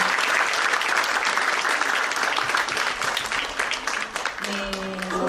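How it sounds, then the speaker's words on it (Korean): A large audience gives loud, sustained applause at a formal Korean ceremony honouring a poet, dense clapping filling the room with a voice briefly heard near the end. "여러분 다시 한번 뜨거운 박수 보내주시기 바랍니다"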